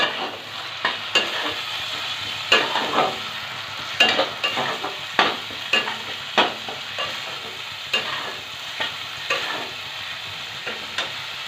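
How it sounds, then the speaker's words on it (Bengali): Spice paste of chili powder, salt and a little sugar sizzles steadily in a hot pan for a fish curry while a spoon scrapes and stirs in irregular strokes, each stir giving a sharp clatter over the frying hiss. "লবণ, সামান্য চিনি দিয়ে ভালোভাবে মশলাটা কষিয়ে নেব।"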